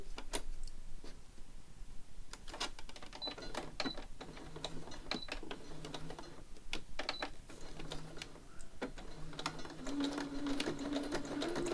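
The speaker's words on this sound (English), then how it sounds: "So I'm just going to have to sew that bit again." A sewing machine runs steadily, stitching along a fabric edge again with fresh thread, its needle giving a rapid mechanical ticking broken by short pauses and restarts, close and clear with no talk.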